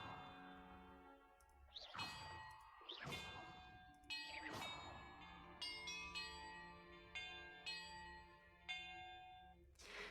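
Bells struck one after another as a puzzle in the video game Hogwarts Legacy: about eight clear ringing tones at different pitches, each ringing on and overlapping the next, spaced roughly a second apart.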